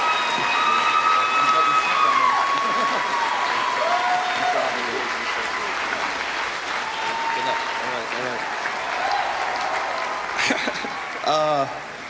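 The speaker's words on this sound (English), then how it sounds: "Please join me in a round of applause." Audience applause at an award ceremony, sustained clapping across a large crowd with some cheering, heard under a voice and music, ending with a few louder bursts.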